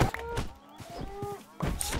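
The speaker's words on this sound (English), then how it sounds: "You're just beating that cow." A cow in the game Minecraft takes repeated hits, giving short thunks and moo-like game sounds in a lively cluster, with a gap before more hits near the end.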